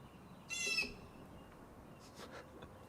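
One harsh bird call, short and fairly clear against a quiet background, followed by a few faint softer sounds.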